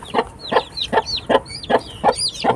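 Baby chicks peep in a steady run of high, sharp chirps, about seven calls in under three seconds, close and clear with no talking, as nine young chicks huddle nearby.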